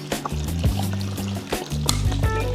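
Water from a freshly cracked coconut pours and trickles out in uneven gurgling splashes, close and fairly loud, with a few knocks and handling noises between spurts.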